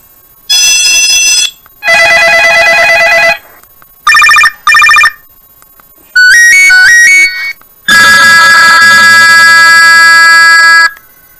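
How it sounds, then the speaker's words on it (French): A series of loud electronic ringtones from a simple senior mobile phone, several short melodic bursts and trilling tones separated by brief silences, each a different tune, no talking. "on va vous faire écouter les sonneries."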